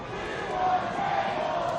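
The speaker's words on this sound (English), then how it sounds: "When the fans chant for tables, that's never a good sign." Wrestling crowd at an independent IWC show chanting for tables, a dense, steady roar of many voices with a rising swell in the middle, loud and sustained with no single voice standing out.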